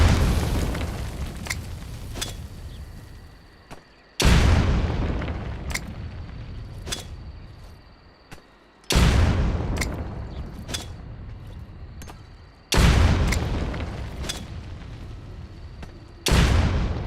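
Repeated grenade blasts in Metal Gear Solid Delta, four heavy booming explosions spaced a few seconds apart, each sharp onset decaying into a long rumbling tail, with faint clicks between.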